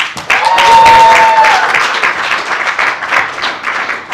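Audience applause at a magic stage show, a dense burst of many hands clapping close and loud, swelling early and then holding steady before easing slightly, with no speech over it.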